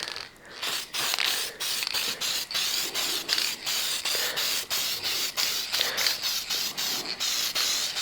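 A spray can hisses in rapid, repeated short bursts as an engine is painted, close and fairly quiet, with a steady rhythmic pulsing of sprays and no talking.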